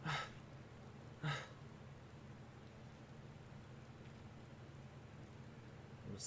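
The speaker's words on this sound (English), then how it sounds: "the sound of falling rain" Rainfall in the game Final Fantasy XIV, a soft continuous patter of falling rain with a faint low rumble, punctuated by a few brief sharp bursts near the start and end.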